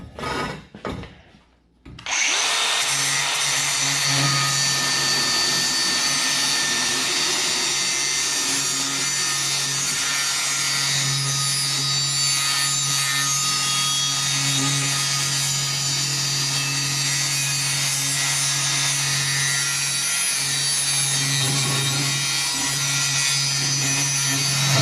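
An angle grinder cuts through the metal of a post hole digger, spinning up after a short start and then grinding loudly and steadily for a long stretch.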